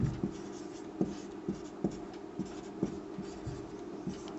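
Chalk or marker taps and scrapes across a classroom board in short irregular strokes, about eight distinct knocks over a faint background, with no talking.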